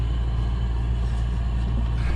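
Vehicle traffic at a gas station at night near Morrisville, New York, a steady low engine rumble that holds evenly throughout without breaks.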